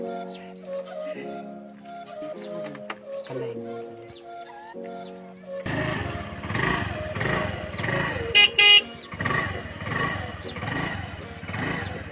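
A Honda Activa scooter engine running after a full service starts midway as a loud, steady, close rumble that keeps going to the end. Tonal sounds come before it.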